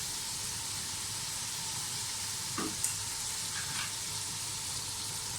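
Spices and softened tomatoes frying together in a pot for chana pulao, an even, dense sizzle with a few faint stirring scrapes midway, close and continuous with no speech.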